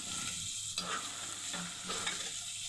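Pieces of beef fry in a pan with a soft, even sizzle, punctuated by a few brief scrapes of stirring, fairly quiet and close.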